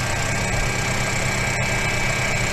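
Motor running steadily at around 1,600 to 1,900 RPM during an open-circuit characteristic test, producing a loud, continuous hum and whine with no clear change over the short stretch.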